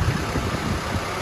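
A 1996 Daihatsu Taft Rocky 4x4 engine idling, a low uneven rumble with soft pulsing throb, close and fairly quiet, no voices.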